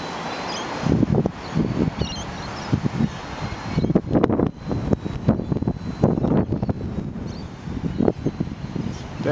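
Gusty wind buffets the microphone outdoors in a park while a small Blade mCP X RC helicopter flies, rough irregular rumbling bursts that rise and fall throughout, with no talk.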